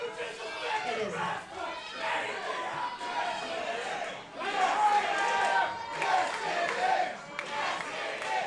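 A crowd roars and cheers for Stevie Brooks, a dense, continuous wall of shouting voices that swells louder in the second half, with individual yells rising out of the mass.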